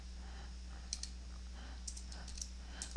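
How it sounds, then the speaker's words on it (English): Typing on a computer keyboard, a few faint, quiet key clicks scattered over a low steady hum. "I'm going to type in equals"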